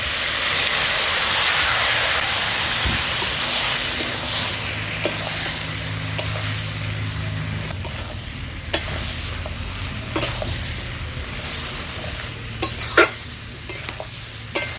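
Water poured into a pan of meat and green jackfruit on the stove sets off a loud, steady sizzling hiss, with a spoon stirring and scraping against the pan throughout.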